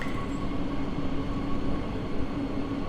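Train in Train Sim World 2 running steadily, a continuous low rumble with a faint high hum, close and unbroken throughout.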